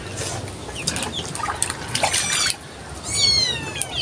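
A puppy and a cat scuffle nearby, with sharp yelps, hisses and squeals coming in quick bursts over background noise.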